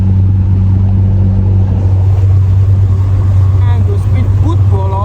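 A speedboat on the water during a fishing outing holds a loud, steady, close engine drone throughout, with people talking over the motor.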